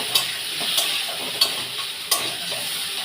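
Tomato going into a pan of frying potato and tilapia fish curry, a soft steady sizzle broken by four sharp scraping stirs of a spatula at roughly even intervals, close and without talk.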